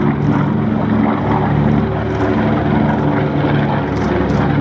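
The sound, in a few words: B-25 bomber aircraft flying, propeller engines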